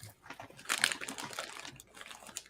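Wrapping paper crinkles and rips as a heavily wrapped Christmas gift is torn open, a dense crackling burst that swells then trails into smaller rustles, close by and without speech.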